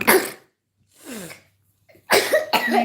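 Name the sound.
cough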